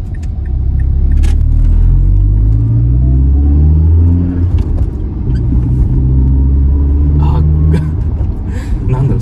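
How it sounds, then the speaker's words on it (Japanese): Mazdaspeed3 engine fitted with a CorkSport race rear motor mount, heard from inside the car as a loud, steady low rumble with vibration, rising and falling slightly as it drives, with a voice talking over it. "振動とともにエンジン音が車内に伝わってくるんで"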